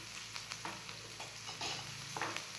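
Food frying in a pan for an egg roll made from leftover flatbread, a continuous faint sizzle broken by a few soft stirring scrapes, no one talking.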